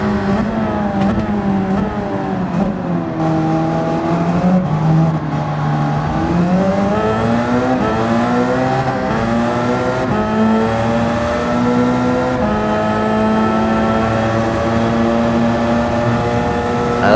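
Race car engines roar around the Spa circuit in a racing video game, a loud close engine note climbing and falling through the gears as the car accelerates, with other cars audible alongside and no talking.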